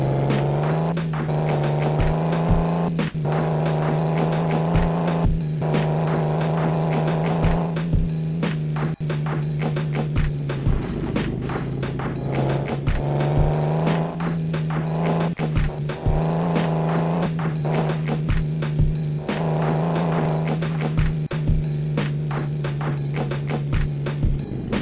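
Steady engine drone of an off-road quad bike in a racing video game, a continuous loud hum with shifting pitch and frequent short clicks and bumps throughout, no talking.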